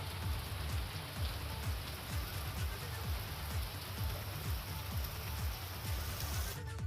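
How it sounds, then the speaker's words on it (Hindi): Steady rain falls on surfaces as a dense, even hiss with continuous patter, loud and close, with no voices, cutting off abruptly at the end. "किसानों के लिए भी ये बारिश अच्छी बताई जा रही है।"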